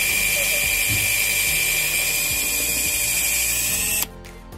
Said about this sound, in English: Using your hand drill and a 1/8 drill bit, drill a hole at your 1 inch mark